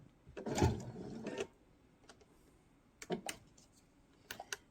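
Short bursts of a sewing machine stitching, a whirring rattle followed by quieter pauses and a couple of brief clicking runs, close by.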